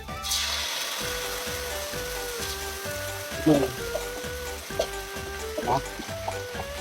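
Crispy pork tossed with chili paste and sauce in a hot pan, a loud continuous sizzle with rhythmic scraping strokes of the spatula and occasional clatter, close up.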